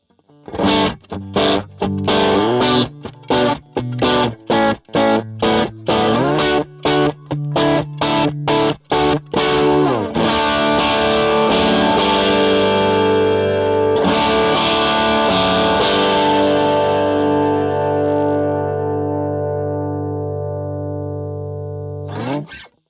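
Electric guitar with a shaped, slightly driven tone, starting with a run of quick strummed chords, then long ringing chords that sustain and slowly fade. No talking.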